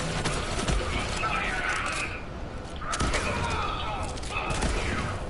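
Vladof assault rifle fire in Borderlands 3 crackles in dense, sustained bursts, loud and near, with two surges around the one- and three-second marks, mixed with game effects and a voice talking over it.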